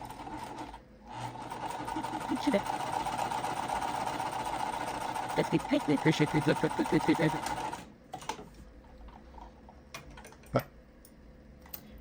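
A sewing machine stitches quilt fabric in a quick, steady buzz for several seconds, then stops, leaving light handling clicks; a voice talks quietly in the background.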